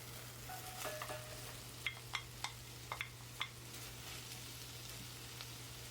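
Onions cooking in a cast iron pot, a steady soft sizzle with a handful of light scraping stirs, close and fairly quiet over a constant low hum.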